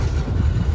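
A train pulls into New Tinsukia Junction railway station in Assam after dark, its loud, steady rumble and wheel clatter sounding close and continuous.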